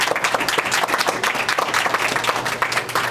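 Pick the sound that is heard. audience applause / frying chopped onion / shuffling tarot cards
audience applause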